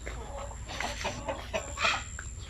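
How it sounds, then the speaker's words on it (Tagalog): Native chickens, a pure-bred Zampen line, clucking in a coop, soft and fairly close over a low background hum, with short scattered calls and a faint voice nearby. "So dito ang aming mga manok."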